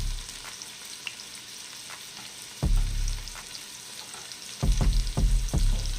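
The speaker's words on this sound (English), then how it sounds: "Now, we're going to add our onions." Onions drop into a hot pot and sizzle steadily, with a loud burst when they land and a series of scraping, knocking stirs toward the end, close and clear with no talking.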